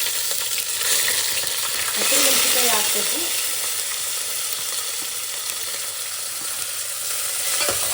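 Green chillies fried in a pan of oil and ghee for a Mandya-style biryani, giving a steady loud sizzle and hiss throughout with faint stirring.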